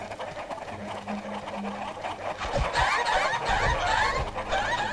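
Chickens cluck and squawk over a busy electronic soundtrack in the Shrek 2 video game's farm level, with bursts of clucking growing denser in the second half.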